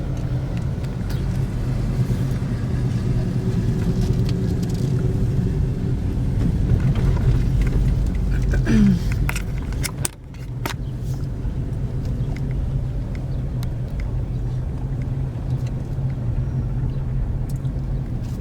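A car ride to a new home gives a continuous low engine rumble and road drone for the whole stretch, steady and close, with a brief dip and bump near the middle and no talk.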